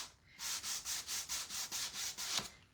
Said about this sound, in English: now I'm taking the edge of my sanding tool